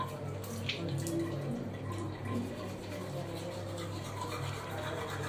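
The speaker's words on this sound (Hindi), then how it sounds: "सो मैं ब्रश कर रही हूँ" Close, steady scrubbing of a toothbrush on teeth over a faint background of running water, with a quiet voice murmuring somewhere in the background.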